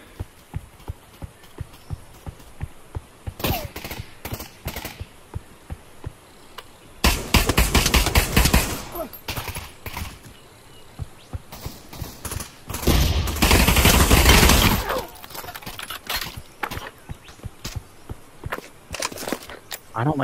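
Desert Eagle pistol fire in Pavlov VR, loud sharp cracks mixed with bursts of heavier gunfire and footsteps, with a voice talking over parts of it.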